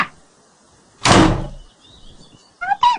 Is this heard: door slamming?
yes